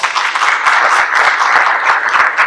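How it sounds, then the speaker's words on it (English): Loud, close applause from a school board meeting audience honoring students, many hands clapping in a busy, continuous rhythm with individual claps standing out. "So we also want to give those students a round of applause."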